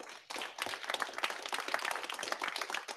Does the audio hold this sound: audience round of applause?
yes